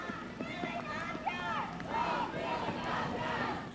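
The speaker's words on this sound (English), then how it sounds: "Chants and cries for help amid deadly attacks" A soaking wet crowd at an Afghan human rights march in Philadelphia chants and cries out together, a steady mass of overlapping raised voices close by.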